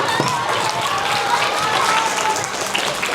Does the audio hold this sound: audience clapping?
yes